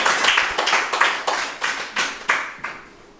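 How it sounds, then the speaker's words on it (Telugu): A meditation-session audience claps in unison for a revered guru, about eight loud, evenly spaced rhythmic bursts that build and then fade at the end, with no voices over them. "ఒకసారి గట్టి క్లాప్ చేసుకున్నాము"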